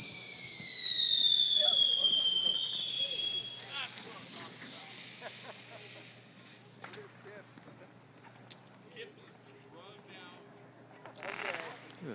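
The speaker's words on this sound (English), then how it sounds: "Those are neat fireworks." A whistling firework rises in pitch then crackles and pops at a distance, followed by scattered faint bangs while people talk nearby, at a Fourth of July night in Astoria.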